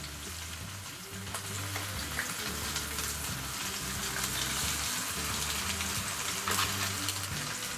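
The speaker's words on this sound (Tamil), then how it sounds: "இப்போ ஒரு மீனாக எடுத்து நம்ம ஆயிலில் சேர்த்துடலாம்." Ora fish sizzles in oil in a pan, a steady broadband fry hiss with a low hum underneath and occasional louder spits and crackles.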